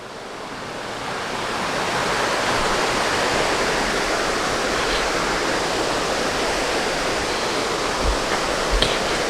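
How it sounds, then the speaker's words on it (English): A small river among cliffs in the Citico Creek Wilderness rushes steadily, a dense, broadband roar of moving water that swells in the first two seconds and then holds constant, with a few faint bumps near the end. "Pretty interesting little river."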